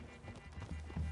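Horse hooves in Red Dead Redemption 2, a short run of soft clip-clop thuds from horses moving nearby through a wooded clearing, growing slightly louder toward the end.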